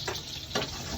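Pansit bato noodles sizzle and frying in a pan, a brief close hiss with two quick scraping stirs, fairly faint.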